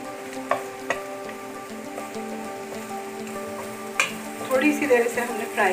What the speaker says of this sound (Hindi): थोड़ी सी देर से हमने फ्राई किया है